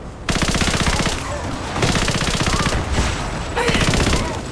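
Sustained automatic gunfire in Rise of the Tomb Raider, rapid machine-gun bursts rattling loudly and nearly continuously with brief lulls between volleys.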